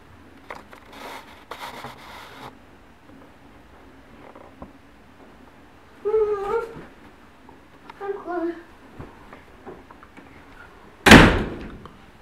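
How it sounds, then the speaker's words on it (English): Inside a home, a child whines and a voice talks quietly. Near the end, a door slams once, loud and sharp. "Do not slam the door."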